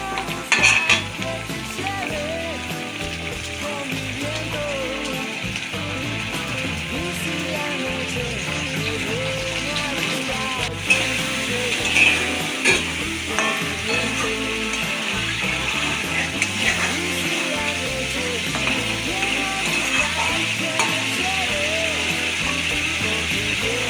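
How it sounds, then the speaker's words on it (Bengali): Pointed gourd and spices fry in a pan, stirred continuously: a loud, steady sizzle with repeated scraping and clattering of the spoon against the pan throughout, with no voices. "পটল নাড়তে নাড়তে পটল আর মশলা একসাথে"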